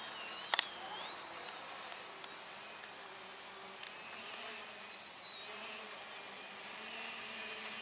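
An Ares V-Hawk small RC aircraft hovering, a thin high-pitched buzzing whine of tiny motors rising and falling in pitch, steady and fairly faint, with a couple of sharp clicks early on.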